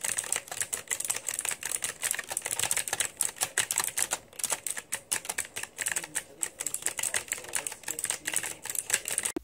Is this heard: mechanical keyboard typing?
yes